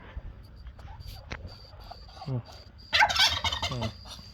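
A turkey gobbles in a rapid rattling burst close by, with a shorter gobble just before it, over low background noise in a Lao home setting.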